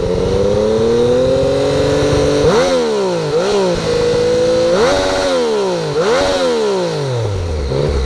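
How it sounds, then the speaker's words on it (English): A 2014 Yamaha FZ-09 with the stock exhaust revs hard and loud up close, holding high near the limiter. It then drops and climbs again in several sharp, bouncing blips. "bounce off the rev limiter a couple times for old time's sake"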